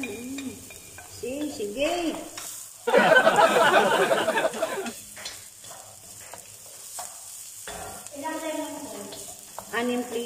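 Garlic goes into a pan of frying chicken feet, liver and meat for Filipino adobo, producing a sudden burst of loud sizzling that settles into a softer fry, while people chat nearby.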